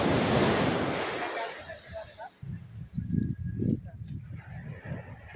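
Sea waves wash in at a beach in Morong, Bataan, a loud broadband surge that fades over the first two seconds, then lower surf continues with wind buffeting and people talking nearby.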